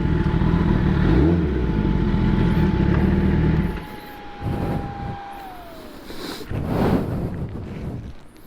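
A Kawasaki ZX10R sport motorcycle engine running, a loud steady idle rumble that cuts out partway, followed by quieter bursts of revving and wind noise.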